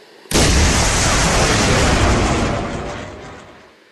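Torpedoes launch from a diesel submarine in the Command naval warfare game, heard as a sudden loud, broad whooshing burst that holds for about two seconds and then slowly fades away.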